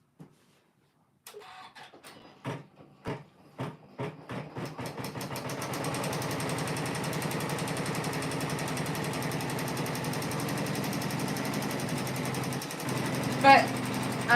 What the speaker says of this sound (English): Okay, it's gonna quilt over this pink.